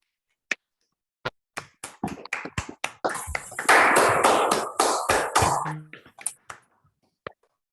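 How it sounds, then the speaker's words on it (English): Online attendees clap over a meeting call, starting with scattered separate claps that build into a short burst of clapping and then thin back to a few isolated claps. "let us give a round of applause to Rendani"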